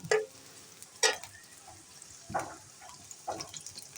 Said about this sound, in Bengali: আমি চুলায় কড়াই বসিয়ে দিয়েছি, তেল গরম হয়ে গেছে, দিয়ে দিলাম পেঁয়াজ কুচি।